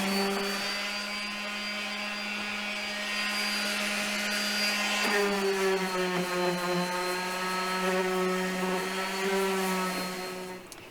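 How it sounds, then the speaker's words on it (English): Wood chair parts sanded with 220-grit sandpaper, heard as a steady, close motor whine with a faint rubbing texture that runs for about eleven seconds with no talk. "And here I'm using 220 sandpaper."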